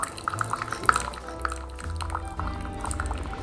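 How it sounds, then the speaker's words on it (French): Coffee runs from the tap of a coffee maker in a quiet, trickling pour, with faint drips and splashes over a low background hum. "ouvrir le robinet pour verser le café"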